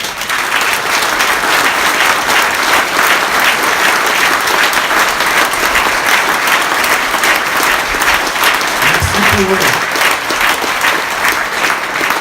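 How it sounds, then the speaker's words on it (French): A crowd applauds steadily for soldiers at a speech during a village patron saint festival in Péone, France, with sustained clapping from many hands filling the space and a brief voice murmuring near the end. "Je voudrais qu'on fasse une salve d'applaudissements pour ces militaires."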